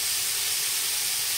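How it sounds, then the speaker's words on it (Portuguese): Meat sears in a pan with lard for an Entrevero de Pinhão, a continuous close, bright sizzling hiss with no pauses and no voices. "Olha, olha o chiadinho da panela."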